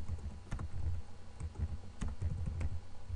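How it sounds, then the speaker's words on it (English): Rapid keystrokes on a computer keyboard while writing a paper in Microsoft Word on a Windows 7 PC, a steady, close run of light clicks with a few sharper taps standing out, no talking. "now I'll be able to start typing here again"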